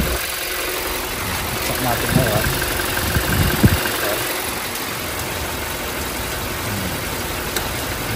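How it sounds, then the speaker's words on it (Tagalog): A Toyota Fortuner idles at close range with a steady, even engine rumble throughout, while someone talks over it. "Hindi natin pinatay yung makina."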